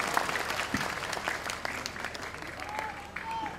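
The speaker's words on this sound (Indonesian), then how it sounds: "Tepuk tangan Ustadz Abdul Somad" Audience claps steadily and densely for Ustadz Abdul Somad at a large religious gathering at Pondok Modern Nurul Hidayah, a sustained wash of applause with brief faint voices mixed in.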